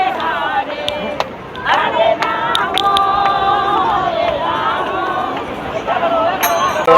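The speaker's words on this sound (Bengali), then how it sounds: "কত ভিড়টা দেখো।" A dense crowd mills on the seashore at the Gangasagar Mela around evening Ganga aarti time, a steady babble of many voices with shouts and chatter rising and falling, fairly close and continuous.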